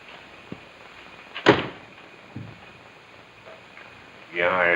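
A single door bangs shut at close range in a quiet rural room, one sharp thud with a few faint knocks before it and a voice speaking briefly near the end.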